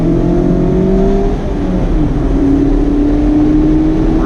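A 2019 Mazda MX-5 RF engine during a heel-toe downshift, a loud continuous engine note whose pitch dips briefly then climbs again as revs are blipped, heard close from inside the car with no talk.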